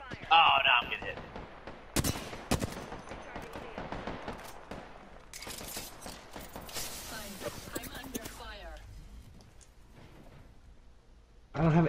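Gunfire strikes the player in Apex Legends, with scattered sharp impacts and rattling shots under continuous excited talk from players, plus a louder bright burst near the start and end.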